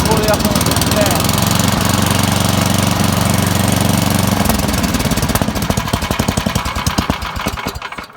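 Troy-Bilt snow thrower engine running loud and close, a rough steady rattling drone that shifts into a faster chugging beat partway through before trailing off.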